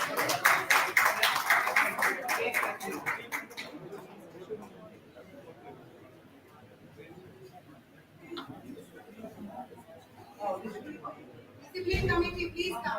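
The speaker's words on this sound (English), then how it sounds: "Please have a round of applause for the discipline committee members." An audience at a physiotherapy conference claps for committee members in a dense burst of applause that tapers into murmuring chatter, then a fresh wave of clapping returns near the end.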